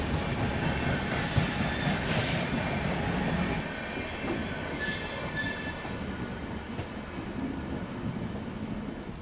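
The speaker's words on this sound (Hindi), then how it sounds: "और अब हमारी ट्रेन जो है वो निकल चुकी है कटनी मैहर जबलपुर की तरफ।" A passenger train runs on the rails toward Katni, Maihar and Jabalpur, with a steady rumble heard from on board, light wheel screeching and occasional clacks, easing somewhat partway through.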